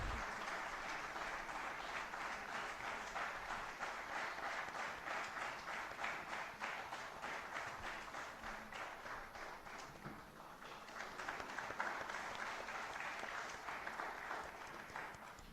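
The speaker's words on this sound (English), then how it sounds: "we request everyone to honor the presence of our dignitaries with loud round of" An audience in a hall applauds the dignitaries at an official valedictory function, sustained even clapping heard faintly and at a distance for over fifteen seconds, swelling slightly near the end.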